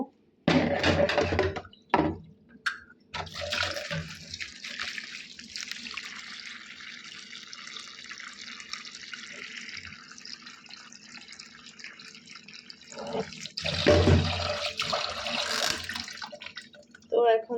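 Tap water runs into a sink to soak fish before cooking, a steady splashing stream with short gaps and a louder burst near the end, close by.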